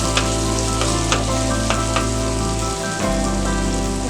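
Tomatoes, nearly softened, are mashed and stirred in a hot pan for a drumstick chicken curry, giving a loud, steady frying sizzle up close with faint scraping strokes of the spoon.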